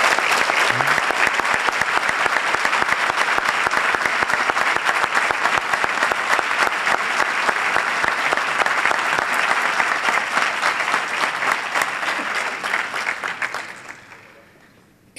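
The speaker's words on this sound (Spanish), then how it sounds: "El aplauso más grande de la tarde a alguien que ha prestado 40 años de servicios a este país." Long, loud burst of crowd applause at a local police institutional ceremony, sustained and even for about thirteen seconds before tapering off and fading to near silence at the end.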